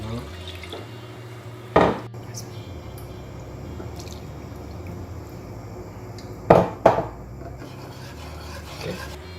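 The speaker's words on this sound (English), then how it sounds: "So we want to give the pasta a little stir there as well to make sure that's not sticking to the bottom." Pasta being stirred in a cooking pot on the stove for vegan mac and cheese, with a few close scraping clatters against the pot amid quiet bubbling and faint kitchen background.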